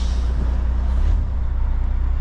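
A car or truck engine on a road near a roundabout, a steady low rumble that swells briefly, then settles to a rougher, pulsing drone.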